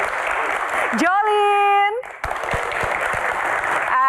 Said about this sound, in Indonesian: Berikan tepuk tangan yang paling meriah